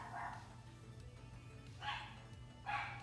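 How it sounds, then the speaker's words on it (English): A dog barks indoors in a house, three separate bursts spaced apart, quiet and somewhat distant against a low background hum. "dog is going crazy."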